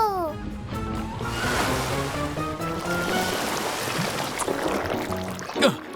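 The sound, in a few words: water being thrown, cartoon splash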